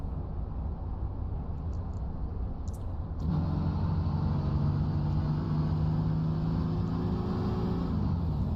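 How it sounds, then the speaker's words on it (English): A race truck's engine in a racing game at Pocono Raceway shuts off on an onboard camera. A steady roar drops out, then a lower, smoother droning hum carries on at an even level. "Hear him clutching it and shutting the car off."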